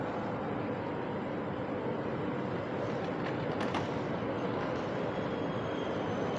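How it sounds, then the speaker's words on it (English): A steady low rumble of a TGV high-speed train rolling slowly into a Paris station, continuous and fairly faint, with no voices. "There is a train arriving. TGV, but he's not going very fast."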